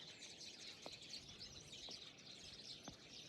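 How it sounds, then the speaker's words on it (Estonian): Many small birds chirp and twitter outdoors on a farm in a soft, continuous chorus, faint and distant, with a few sharper calls standing out. "kuulake, kui palju linnukesi on"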